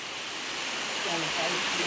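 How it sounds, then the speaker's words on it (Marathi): Heavy rain pours down in a steady, dense hiss that holds evenly and grows slightly louder over two seconds, with no other sound standing out. "परत पावसाने बघा सुरुवात केलेली आहे"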